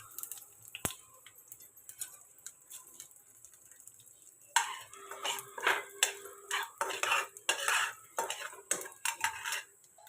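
Tempering of mustard seeds, cumin, curry leaves and urad dal for vada pav being stirred in a pan, heard as dry scraping clinks of a utensil against metal, quiet at first and then a denser run of close scraping strokes.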